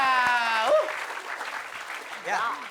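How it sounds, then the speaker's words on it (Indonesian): A studio audience claps in a short burst of applause on a game-show set, steady and moderately loud, with voices talking over it throughout. "Oke, kita kasih tepuk tangan buat Fatih, Dery, dan juga Tata Dado."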